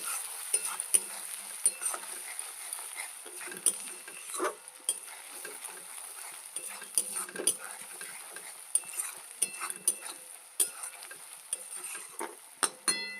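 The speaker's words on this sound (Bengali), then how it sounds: "মশলাটা ভালোভাবে কষিয়ে নেব।" Ground chili, cumin and coriander masala is stir-fried in a pan for a catfish curry, with a soft steady sizzle broken by repeated sharp scrapes and clinks of a spatula against the metal, close and otherwise quiet.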